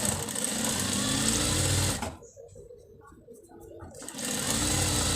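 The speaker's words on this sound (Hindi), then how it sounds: "तो यहाँ पर मैं सिलाई लगाऊंगी। सिलाई बिल्कुल इसकी किनारी पर लगाएं।" A sewing machine runs a steady, loud stitch along the edge of fabric for a foam cushion, stops for about two seconds, then resumes at the same whirring pace.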